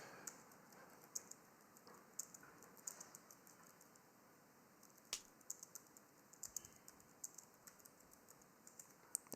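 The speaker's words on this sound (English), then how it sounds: "this typing just bothers me so much" Computer keyboard typing heard faintly at a distance, irregular bursts of light key clicks over a quiet room hum.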